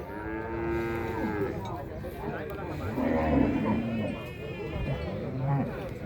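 Water buffalo at a Thai livestock market low and moo repeatedly in long, drawn-out calls, near and fairly loud over a constant background of crowd and market noise.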